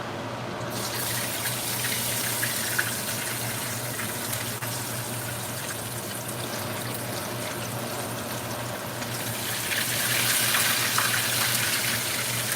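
Tap water gushes steadily into a bowl in a home kitchen while seafood is being cooked, a loud continuous splashing pour that swells slightly near the end, with no voices over it.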